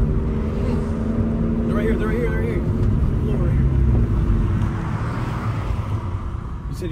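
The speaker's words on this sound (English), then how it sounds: "Yeah, my turbo kicked in right now." A Toyota GR86 with a turbo, driven at night, its engine droning loudly and steadily from inside the cabin while people talk over it.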